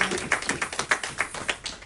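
A church congregation claps in quick, fairly regular hand taps, around a dozen sharp beats close by, with no voices over them.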